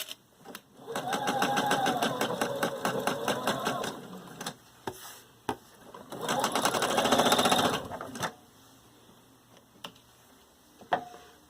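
A sewing machine stitches fabric in two rapid mechanical bursts of steady whirring and ticking, each a few seconds long, with sharp isolated clicks and taps in the pauses between.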